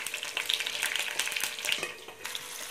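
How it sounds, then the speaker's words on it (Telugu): About twenty green chillies deep fry in hot oil, a dense close crackling and bubbling hiss with small popping bursts for a few seconds. "ఒక 20 పచ్చిమిర్చి తీసుకున్నాను, స్పైసీ ఎక్కువ కావాలి కాబట్టి అవి ఇందులో డీప్ ఫ్రై చేసుకోవాలి"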